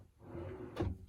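RV storage drawer in an InTech Terra Oasis travel trailer sliding open or shut, a single soft rumbling slide ending in one muted thump near the close, with no talk.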